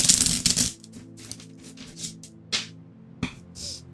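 Tarot cards being shuffled by hand in a quick burst of crisp riffling, then a few scattered card taps and flicks, fairly close and with no talk over them.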